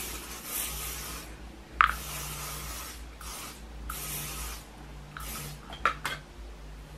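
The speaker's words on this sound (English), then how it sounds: "I'm just going to take my gliss spray and like mist this all over" Gliss hair spray misted over freshly blow-dried curly hair in several soft hissing bursts, with a few light clicks and taps of the can between sprays, close and fairly quiet.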